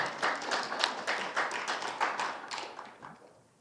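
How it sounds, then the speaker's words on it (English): A small audience at an artist talk claps, a handful of distinct hand claps in quick uneven rhythm, fairly close, tapering off after about three seconds. "We gotta give him some applause there."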